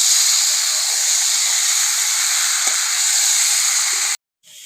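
Spices and masala for a green jackfruit and prawn curry sizzle and hiss loudly in hot oil, a steady bright frying noise with a faint stir scrape, cutting off abruptly near the end.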